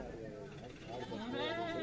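Sheep bleating at a Friday livestock market, wavering calls rising over a busy crowd with people talking close by.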